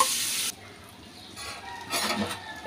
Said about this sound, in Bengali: এখানে মাছটা দিয়ে দেব, একটুখানি তেলের মধ্যে এটা ভাজা করে নেব।